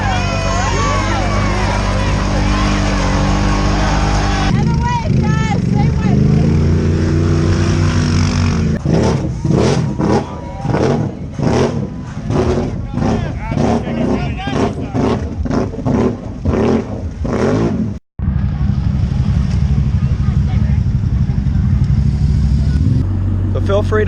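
A Kawasaki Bayou 300 ATV runs at an off-road ATV park, its engine revving in quick pulsing bursts with someone talking over parts of it.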